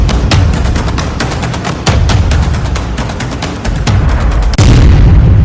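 Rapid bursts of gunfire, a loud sound effect in a Hindi TV news report on a gang-war shooting at a burger shop in Delhi, with dense repeated shots and booming reports throughout and no talk.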